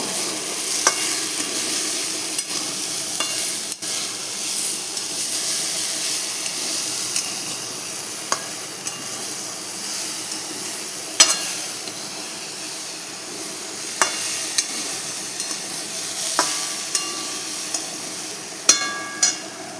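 Banana flower curry with salt is stirred in a pan, giving a steady sizzling hiss throughout, with scattered scraping clicks of the spoon against the pan.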